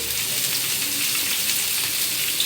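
Mutton sizzles and fries steadily in a hot pan, a dense continuous crackle with no pauses, close and fairly loud, with no talking.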